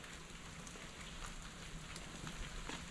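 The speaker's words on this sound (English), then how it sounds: "It's been raining all night" Steady rain patters softly on a surface, faint and continuous with scattered drops.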